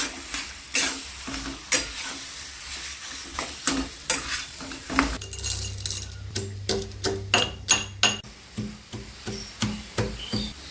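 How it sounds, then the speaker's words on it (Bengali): Jackfruit and prawn mixture sautéed with spices in a pan for chop filling, with a steady sizzle under repeated sharp scraping strokes of a spatula stirring, close and rhythmic throughout. "এবার মশলার সাথে ওটাকে ভালো করে কষে নেব"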